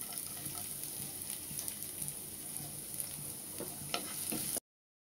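Chopped onion frying in hot oil in a pan gives off a soft, continuous sizzle with light crackles, faint and close, stopping abruptly just before the end.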